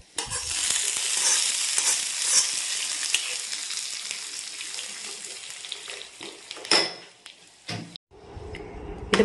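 Chillies and curry leaves hit hot oil as tempering for okra pachadi, setting off a loud hissing sizzle that slowly settles, followed by clatters of a utensil on the pan near the end.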